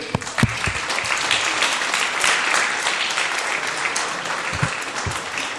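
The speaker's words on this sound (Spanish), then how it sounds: "Denle un aplauso al Rey." A church congregation claps enthusiastically in sustained applause during a sermon, dense and even throughout, with a few sharper nearby claps standing out.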